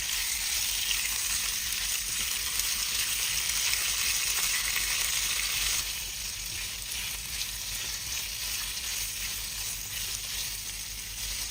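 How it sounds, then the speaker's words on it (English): Lamb browning in a pan gives a steady, dense sizzle and crackle that carries on without a break, easing slightly in loudness partway through, with no voices. "Add the lamb and cook until the surface is lightly browned."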